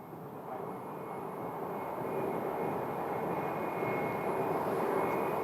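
An airliner taking off at Phoenix airport produces a steady broad roar that builds slightly in loudness and holds, heard from a distance with no talking.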